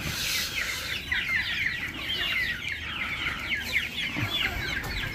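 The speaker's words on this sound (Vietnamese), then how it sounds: "Hôm nay là quyết định là thả gà ra các bác ạ." A flock of farm chickens clucks busily as they are let out of their coop, a dense continuous chatter of overlapping clucks close by over a faint background hum.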